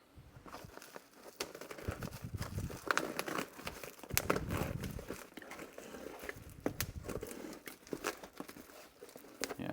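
Packaging for an ATV LED light bar kit with wiring harness is crinkled, crumpled and torn open up close, with steady rustling, plastic crackle and sharp ripping bursts throughout and no talking.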